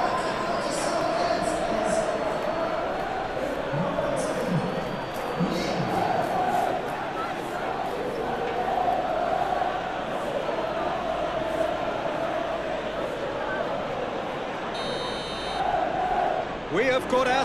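A steady roar of a stadium crowd in a Premier League football video game, Manchester City against Chelsea, continuous and loud with swelling chants throughout, while a commentator talks over it.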